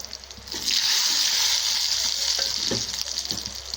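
Mustard seeds and dried red chillies sizzle in hot oil, a bright crackling hiss that swells after a quiet start and continues steadily, with a few soft spattering pops.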